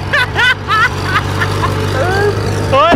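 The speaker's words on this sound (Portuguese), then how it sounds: "o trator é a gasolina, cara" An old gasoline-powered tractor with no fenders, working in mud, runs with a steady low engine drone under nearly continuous close talk.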